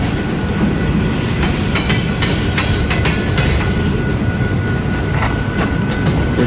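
The tail end of a westbound manifest freight train rolls past at Fremont, Nebraska: loud continuous rumble with rhythmic clickety-clack of wheels over rail joints and a faint steady squeal, close by.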